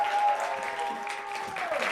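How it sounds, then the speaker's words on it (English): Brief studio audience applause on a talk show, a short burst of clapping layered with a sustained musical tone and a few voices. "Ladies and gentlemen, a round of applause for Mr. Babatunde Gbadamosi"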